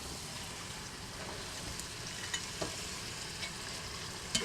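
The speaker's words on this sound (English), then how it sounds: "And just give it a stir." Soft scraping and clinking of a utensil stirring pasta and oil in a pot over a faint sizzling background, with a few sharper taps.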